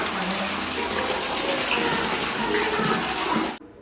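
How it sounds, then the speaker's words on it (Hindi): A submersible pump runs and water gushes steadily into a container at a home after a storm, a continuous loud rush that cuts off abruptly near the end. "तो समर मेरी चल गई है और इसमें भर रहा है पानी"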